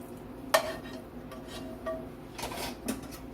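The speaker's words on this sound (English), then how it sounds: "I'm going to put the beef mixture in a bowl" Cooked beef mixture being scraped from a pan into a bowl, with a sharp utensil clack, a few light clinks of metal on cookware and soft scraping, close and fairly quiet, with no talking.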